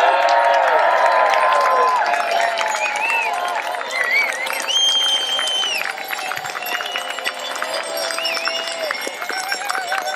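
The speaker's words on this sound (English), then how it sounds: "all I want now is one last, final, huge pedal on Parliament cheer" A large outdoor crowd at the Pedal on Parliament 2015 cycling rally cheers loudly, whooping and shouting continuously with scattered whistles for about ten seconds, no speech over it.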